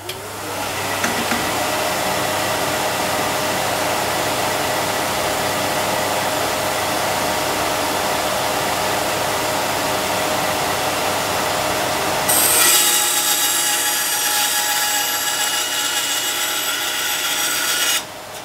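A Record Power bandsaw runs with a steady whine while making a test cut through wood, the tone shifting to a brighter, harsher rasp during the final seconds of the cut, loud and close throughout.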